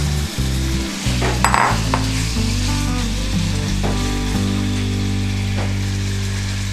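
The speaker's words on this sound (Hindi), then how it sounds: "फ्राई करेंगे इसको, चिकन को अच्छे से सारा मसाला निकाल लें।" Chicken shashlik frying in a pan, a loud, close, continuous sizzle with occasional clatters of stirring and scraping, no voices.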